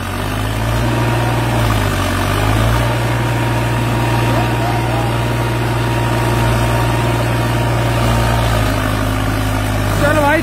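A Farmtrac 45 tractor engine works hard under heavy load, with the hydraulics engaged, in a steady, loud, close drone with a low throbbing tone that dips briefly and recovers.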